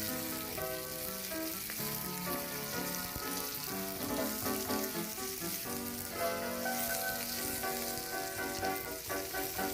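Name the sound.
chopped onions with curry leaves and pandan frying in oil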